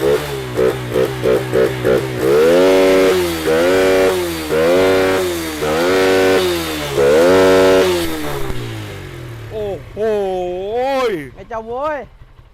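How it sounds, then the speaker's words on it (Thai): A motorcycle engine is started and revved repeatedly as a test at a used-bike sale, with a rhythmic series of loud rising and falling revs followed by higher, wavering throttle blips. "มันคือการทดสอบเครื่องยนต์"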